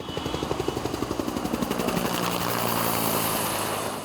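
A military police helicopter hovers over Rocinha in Rio during a police operation with armored vehicles, its rotor beating in rapid steady pulses that blend into a loud continuous engine roar.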